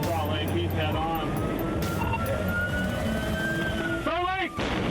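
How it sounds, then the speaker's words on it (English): A police car siren wails with rising and falling tones over road and engine noise, ending in a sharp burst of rapid yelping sweeps. "sirens on and lights flashing"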